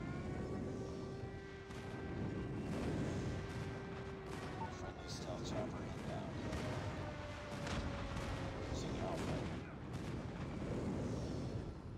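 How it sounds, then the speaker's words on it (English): Airstrike explosions and gunfire in a 10 vs 10 Domination match of the video game Call of Duty Mobile on the map Terminal, a dense continuous barrage of booms and shots under game voice callouts. "Friendly airstrike incoming."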